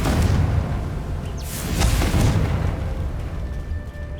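A fiery spell explosion in the video game Hogwarts Legacy, a sustained loud rumbling blast with crackling debris that swells, then slowly fades over a few seconds.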